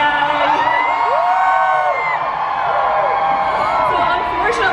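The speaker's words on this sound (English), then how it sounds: "the crowd was so enthusiastic" An enthusiastic crowd at a KCON LA meet-and-greet stage, cheering and shrieking continuously with rising whoops and screams, loud and dense throughout.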